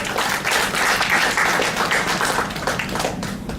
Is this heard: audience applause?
yes